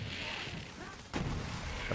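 A loud booming blast cuts in halfway through, over a steady rumbling background of Borderlands 3 game noise and distant gunfire-like thuds.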